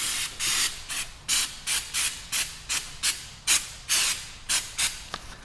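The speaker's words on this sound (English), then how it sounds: "so I'm gonna try the Goof Off, see if that works. Basically spray it onto here and wait." Goof Off paint stripper sprayed from an aerosol can onto a Samsung Galaxy S9 Plus during a clear-phone mod, a dozen short, evenly spaced hissing bursts, close and fairly loud with no talking.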